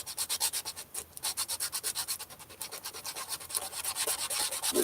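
Fine sandpaper rubs back and forth across a c.1890 parlor guitar part during repair, giving a close, steady run of rhythmic scratchy strokes, one after another with no voices.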